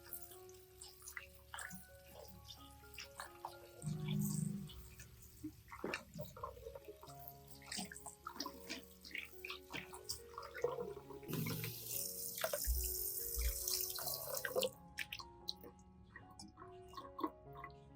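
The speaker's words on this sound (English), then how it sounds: "rinse the peppers thoroughly under running water" Peppers are rinsed under a running kitchen tap, with uneven splashing, trickling and dripping water close by, and a loud gush of flow toward the end.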